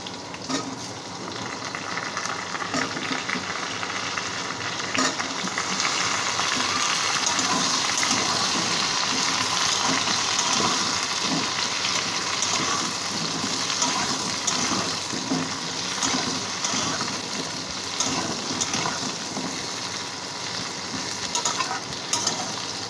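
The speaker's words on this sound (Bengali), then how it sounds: "এবার আলু দিয়ে দেবো, একসাথে ভাজা হয়ে যাবে তাহলে" Pointed gourd and potato pieces frying together in a pan, a loud continuous close sizzle with occasional stirring scrapes, no talk.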